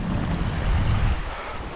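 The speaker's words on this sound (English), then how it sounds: "I've got to cross this stream again" Loud, rushing water from a mountain stream, Carling Gill in the Yorkshire Dales, fills a short stretch as a dense, steady roar, with some wind buffeting mixed in.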